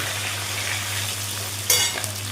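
Fish head frying in hot oil keeps up a steady close sizzle, then chillies drop in with a brief louder crackling burst before the frying settles back, with no voices.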